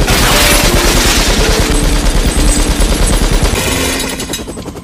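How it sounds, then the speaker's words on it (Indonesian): A minigun rips through a room in a Matrix action movie scene, a loud, continuous rapid-fire roar with dense repeating shots and debris crashing, easing off slightly near the end. "Neo langsung menembakkan minigunnya sampai menghancurkan ruangan itu"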